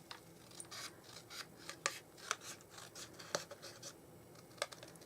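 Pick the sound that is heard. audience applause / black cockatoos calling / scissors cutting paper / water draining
scissors cutting paper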